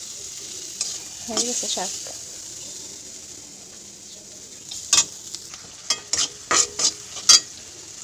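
Leafy greens stir-fried in a pan give a low sizzle broken by a run of sharp scraping stirs near the end, loud and close. A voice speaks briefly.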